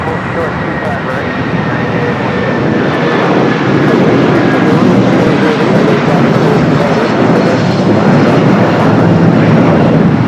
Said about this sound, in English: Philippine now starting its roll.